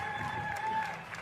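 Crowd applause at a pickleball world championship match, a steady, dense wash of clapping from the stands that holds for a moment without breaks, with a faint voice and a high tone running underneath.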